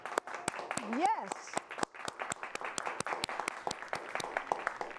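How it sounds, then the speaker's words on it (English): Studio audience applause on a homemaking talk show: dense, steady clapping fills the whole stretch, with a voice briefly speaking over it near the start. "maybe the fourth time we've asked for applause on this show in many, many years"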